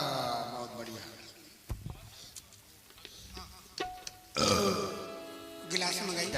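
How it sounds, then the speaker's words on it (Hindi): A single burp erupts amid chatter during a Ram Vivah wedding performance in Jarauli, Kanpur, a brief guttural belch heard among voices and noisy clatter. "डकार"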